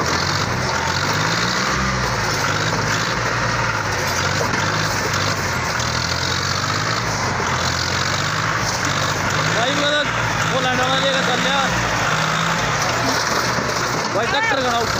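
A John Deere 5038 and a New Holland 3630 tractor straining in a tug-of-war contest outdoors, their diesel engines roaring steadily and loudly throughout, with a crowd shouting and talking over them.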